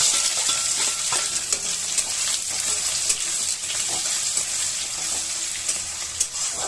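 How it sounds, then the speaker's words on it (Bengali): Chopped onions fry in oil in a pan with a steady, close, bright sizzle throughout, broken by small scraping stirs from a spoon. "আর এই পেঁয়াজটা আমি লাল লাল করে ভেজে নেব"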